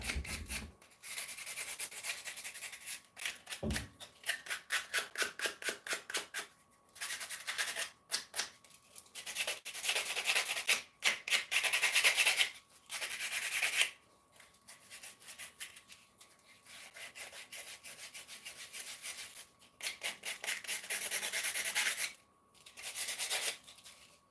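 Sandpaper of a higher grit rubs across a surface in long bursts of quick back-and-forth strokes, close and loud, broken by short pauses.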